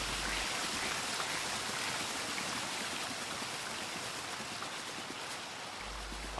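Forest water flows steadily in Super Mario Odyssey, a continuous broadband rush like a nearby stream or light rain, with no talking over it.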